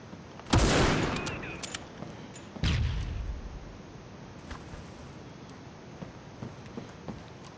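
Gunfire in the mobile shooter Critical Ops comes as two sharp, loud reports about two seconds apart, each with a decaying tail, followed by faint scattered distant shots and taps over game ambience.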